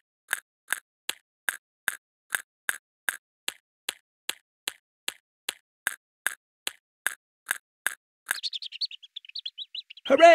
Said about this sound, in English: Pepper and George help the hungry chicks through the maze